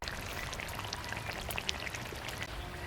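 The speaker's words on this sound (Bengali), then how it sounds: "এদিকে পুকুর পাড়ে দেখুন টিপ টিপ করে বৃষ্টি পড়ছে।" Light rain drizzling by a village pond, a dense steady patter of drops with scattered brighter taps, continuous and moderately close.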